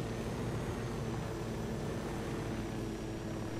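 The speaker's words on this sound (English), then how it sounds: "they'll hear this massive helicopter" Massive helicopter in the Ghost Recon Wildlands video game, a loud, steady, broadband engine and rotor roar with no pauses, close and unbroken, with no voices over it.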